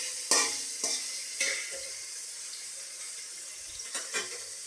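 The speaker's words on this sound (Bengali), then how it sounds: "দেখো আমার পেঁয়াজটা ভাজা হচ্ছে।" Onions frying in a pan for a chicken dish, a steady soft sizzle with several sharp clatters from stirring or scraping spread through, fairly quiet and close, with no talking.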